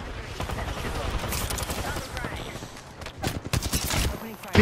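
Gunfire in the Apex Legends battle royale game, rapid bursts of automatic shots and impacts packed densely under ongoing game noise and voices.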